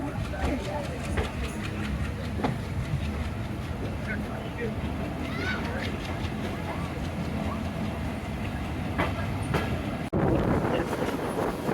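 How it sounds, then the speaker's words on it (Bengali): The Aparajita commuter train pulls out of Nachol railway station with a rumbling, clattering run of wheels and wagons, a steady noisy rush with brief squeals and knocks, while people talk over it nearby. "হুইসেল বাজিয়ে আমাদের ট্রেন ছেড়ে গেল নাচল রেলওয়ে স্টেশন থেকে"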